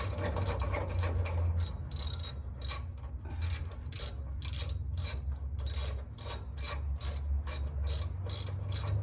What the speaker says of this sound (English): I'm just using a pair of channel locks to hold this strap because I don't want it twisting back and forth as I wrench on it